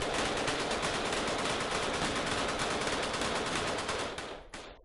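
A ghost gun fitted with a bump stock fires a very rapid, continuous burst, loud and close, the shots blurring into one sustained rattle before stopping abruptly.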